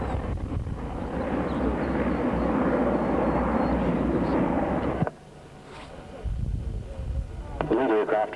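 A Mirage jet flies at the 1983 RAAF Point Cook air show, giving a steady, loud roar for about five seconds. The roar cuts off abruptly, leaving quieter wind and background sounds.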